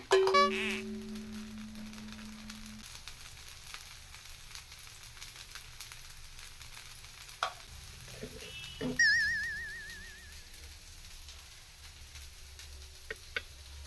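A dosa crisps in a pan with a soft, quiet sizzle, broken by scattered ticks, a few faint clinks and brief whistling tones.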